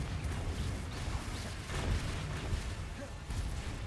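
Confringo fire spell blasts in Hogwarts Legacy combat, a dense, continuous roar of crackling bursts and booms with no pause over a few seconds.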